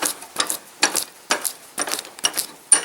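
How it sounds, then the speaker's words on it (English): An old tractor fuel filter is clamped in a workshop bench vise, giving a series of short metallic ratcheting clicks and scrapes at an uneven rhythm, close and moderately loud, with no speech. "I'm going to see if I can put it in this vise, if it'll fit."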